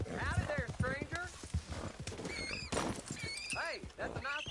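Horse hooves clip-clop in the Red Dead Redemption 2 video game, a steady trotting rhythm with a whinny, heard under continuous character dialogue.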